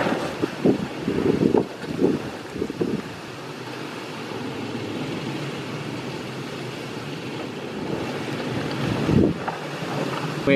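Strong wind roars outdoors beside a DIY Hugh Piggott axial flux wind turbine, a loud continuous rush with gusty swells and buffeting near the microphone, no talking.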